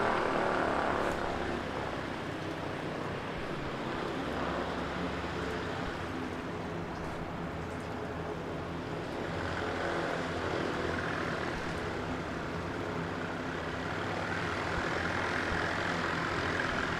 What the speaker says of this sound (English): Looks like the P-68 training aircraft TZZ is coming in